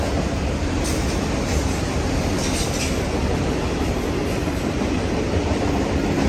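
Loud, continuous rumble and rattle of a Union Pacific auto rack freight train rolling past close by at the Oakland Coliseum Amtrak station, wheels clattering steadily throughout.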